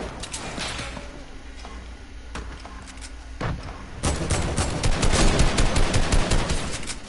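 Video game gunfire, scattered sharp shots and short bursts at first, then a loud, dense stretch of rapid automatic fire through the second half.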